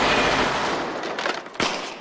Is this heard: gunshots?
yes